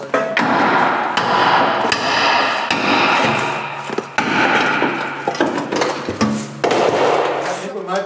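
Rusted-together car parts are struck apart with a hammer, giving loud, sharp metallic blows at irregular intervals over a busy, echoing workshop background, with voices in between.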